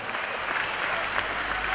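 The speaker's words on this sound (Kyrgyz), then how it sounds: "Кол чабуулар." Audience applause at a stage concert celebrating a singer's anniversary, a sustained, even roar of many hands clapping with a slight swell near the end.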